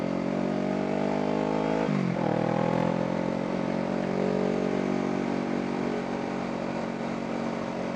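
A liter-class motorcycle engine idles steadily and loudly up close, with a brief dip and recovery in engine speed about two seconds in before settling back into an even running note.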